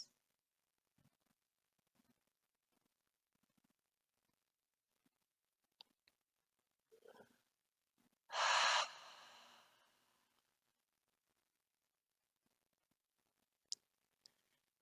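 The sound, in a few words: open mouth exhales during yoga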